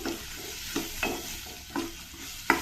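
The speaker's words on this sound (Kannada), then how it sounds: "ಸ್ವಲ್ಪ ಈರುಳ್ಳಿ ಚೆನ್ನಾಗಿ ಫ್ರೈ ಮಾಡ್ಕೊಳ್ಳೋಣ, ಸ್ವಲ್ಪ ಟ್ರಾನ್ಸ್ಪರೆಂಟ್ ಆಗೋವರೆಗೂ." Onions fry in a mustard-seed tempering with green chillies and curry leaves, under a soft continuous sizzle. A spatula scrapes the pan in regular rhythmic strokes, close and clear.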